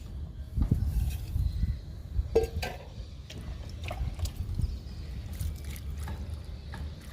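Water poured over papaya peels in a potted flower plant, a soft trickling and splashing with a few knocks and clatters, close and fairly quiet, no talking.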